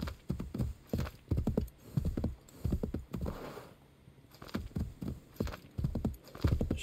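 Horse hooves clip-clop in the Assassin's Creed 3 Remastered video game, a steady rhythmic run of close, distinct hoof strikes with a brief pause midway, no talk.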